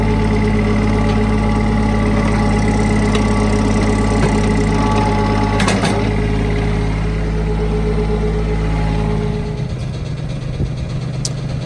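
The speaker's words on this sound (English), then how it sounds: "Little diesel back there." The small diesel engine of a Bobcat 463 skid steer runs steadily at a loud, close idle, a constant throbbing drone that dips slightly near the end, with no talk.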